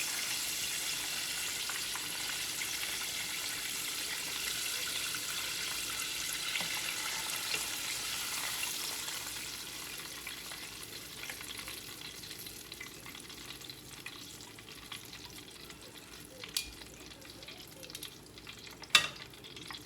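Chicken pieces fry in hot oil in a home kitchen, giving a steady, close sizzle that fades softer midway, with a few sharp clicks and clatters near the end.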